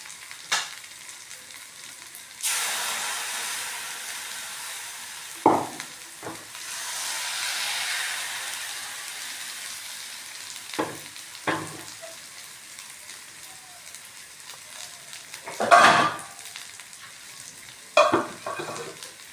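Appam batter poured into a hot pan sizzles with a soft, steady frying crackle, broken by several sharp clinks and scrapes of utensils, moderately close and with no voices.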